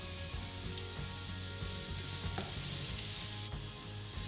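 Onion pieces sizzling steadily in a pan of hot oil, a close, continuous crackling fry with no talk over it.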